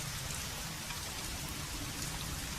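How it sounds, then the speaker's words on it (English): Steady rain falls continuously, a dense, even hiss of drops with no breaks, alone and without voices. "It's just raining."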